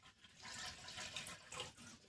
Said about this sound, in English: I'm going to go ahead and add my water to this for my noodles